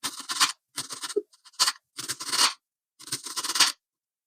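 A knife slices through a spring onion in about five short bursts of crisp crunching and scraping on a board, separated by brief pauses, close and fairly quiet.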